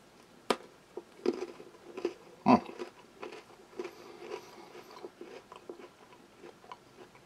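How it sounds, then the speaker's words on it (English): A salt cracker from a French halal 24-hour ration is bitten and chewed close up, with a sharp crunch followed by quieter, irregular crunching and mouth sounds, fairly faint and without talk. "Let's try a little bit of the salt cracker with those."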